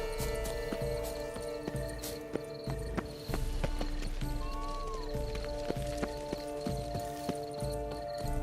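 Horse hooves clip-clop at a steady pace in The Witcher 3: Wild Hunt Blood and Wine, a rhythmic run of hoof knocks over a dense bed of game music and ambience, with one brief high tone rising above.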